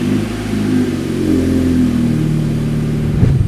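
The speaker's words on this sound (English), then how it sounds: "let's get it started and see what it sounds like" A car engine, unstarted for about three weeks, runs with a steady mid-pitched hum that rises slightly in revs, loud and close, with no talk over it.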